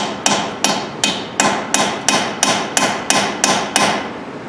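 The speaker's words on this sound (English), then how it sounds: "Now I'm going to take a brass hammer and" Brass hammer striking a Torx bolt on a 2011 Impala, ten sharp evenly spaced metallic blows about every third of a second, close and loud with short decays.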